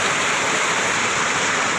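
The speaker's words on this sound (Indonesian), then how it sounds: "Ada air terjun di sini, keren banget." A waterfall on a river in an Indonesian village forest roars as a steady, dense rush of falling water, loud and unbroken throughout, with no voices.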